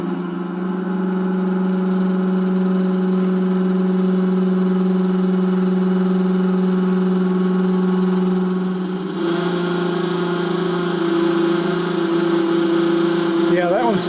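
The motor of an electric space heater runs with a loud, steady low hum and whir that shifts slightly partway through, with a brief rattle near the end, and a voice speaks over it.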